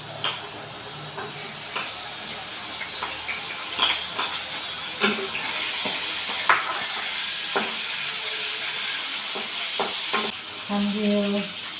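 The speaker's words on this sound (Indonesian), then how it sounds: "Sambil menggoreng ikan asin" Continuous sizzling of salted fish frying in hot oil, with occasional scraping stirs and clinks, close and moderately loud.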